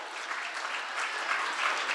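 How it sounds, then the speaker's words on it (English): Audience at a library math slam claps for the math team, a dense, steady wash of applause at moderate loudness that holds evenly for the whole stretch. "Clap for them. Clap for our math team, y'all."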